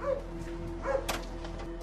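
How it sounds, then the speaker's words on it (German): A large dog barks outdoors in a Raleigh neighborhood, two or three quick muffled woofs heard at a distance against a steady low hum, with no talking. "das klingt wie ein großer Hund"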